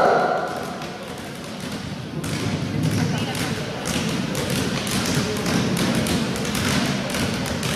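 Several balls thump against a gym floor during a youth basketball dribbling drill for under-11 to under-13 players, a dense, steady patter of overlapping bounces with a coach's voice running over them.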